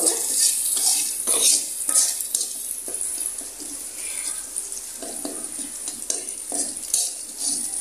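Onions and meat masala sizzle in a pan, a steady loud frying hiss throughout, broken by repeated scraping strokes of a spoon stirring against the metal.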